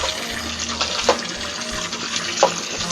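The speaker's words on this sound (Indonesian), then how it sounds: "Jadi nanti kita isi air sampai 5/6." Water pours steadily from a tap into a 120-liter plastic drum, a continuous close rushing hiss with faint clunks partway through and no talk over it.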